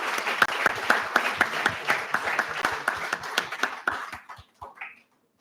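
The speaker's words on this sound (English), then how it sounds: "Can we have a huge round of applause for sir?" A conference audience at a professional talk applauds a speaker with a sustained, fairly dense round of clapping that thins into a few scattered claps before fading to quiet.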